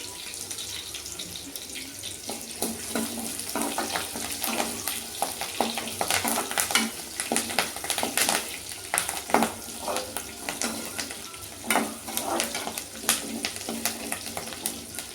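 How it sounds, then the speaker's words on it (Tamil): Onion and curry leaves frying in oil give a continuous sizzle with irregular stirring clinks and scrapes, close and moderately loud, with no voices. "கருவேப்பிலை பொரிஞ்சிருச்சு."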